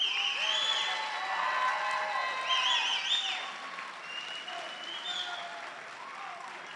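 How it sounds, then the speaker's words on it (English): An audience at a high school academic awards ceremony claps in sustained applause for student award winners, with voices and cheers mixed in. The applause gradually softens toward the end. "let's give these guys a round of applause."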